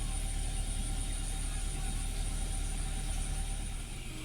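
A 2012 Toyota Avanza 1300 manual idles near 1000 RPM with a steady, even engine drone throughout, heard close up.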